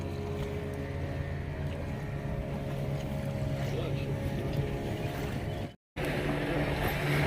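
A motorboat ride near a river mouth on the Pondicherry coast gives a steady, close engine drone mixed with wind buffeting, continuous throughout except for a brief dropout near the end.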